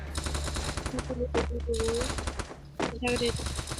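Rapid video-game gunfire crackles in loud bursts of automatic fire, breaking off briefly before resuming, with a constant game hum underneath and brief voice sounds between the volleys.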